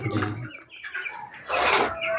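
Broiler chickens on a poultry farm in Noakhali, a close flock giving loud overlapping clucks and calls, rising into a denser burst near the end.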